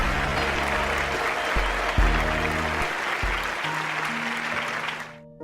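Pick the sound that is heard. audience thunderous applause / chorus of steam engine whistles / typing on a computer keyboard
audience thunderous applause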